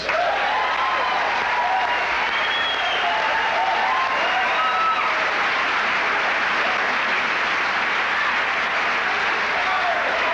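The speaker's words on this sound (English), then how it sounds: "Let's have a nice round of applause for Mr. Barry Crimmins." A studio audience at a 1986 HBO young comedians all-star show applauds a comedian as he comes on, a steady roar of clapping that holds loud and dense for about ten seconds.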